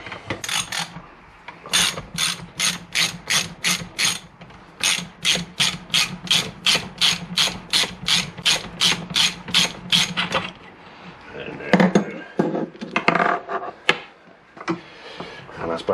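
A ratchet loosening the fork top nut on a Peugeot Django scooter gives long runs of rapid, evenly spaced clicks close to the microphone, a brief pause, then rougher scraping and clunking of the tool and fork, with no talk.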